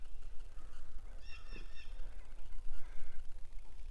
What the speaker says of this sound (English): The ducks are chilling.